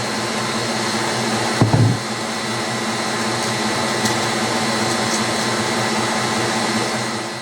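An electric mixer beats caramel pound cake batter with a constant, even motor drone, close by, broken only by a brief knock early on.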